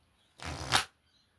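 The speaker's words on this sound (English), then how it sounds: "I shuffle up the cards a few times" A single quick riffle of playing cards being shuffled, a brief crisp flutter up close in an otherwise quiet room.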